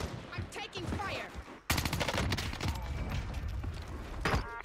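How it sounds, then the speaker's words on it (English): Automatic gunfire in the shooter game Call of Duty: Warzone, a sustained close burst mixed with game effects. Talk runs over the earlier part of the shooting. "I'm taking fire."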